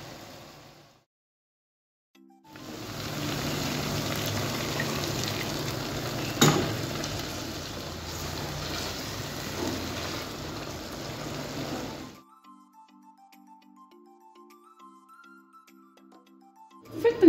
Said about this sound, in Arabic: نجيب مغرفه تاع الفرينه نحطها كاع تتقلى، ونمرق بشويه تاع الماء يكون ساخن